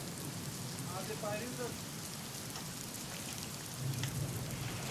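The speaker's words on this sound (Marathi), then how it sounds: "रत्नागिरी जिल्ह्यातील संगमेश्वरमध्ये मुसळधार पाऊस झाला" Heavy rain falls in Sangameshwar, Ratnagiri district as a steady, dense hiss, with a low rumble swelling briefly toward the end.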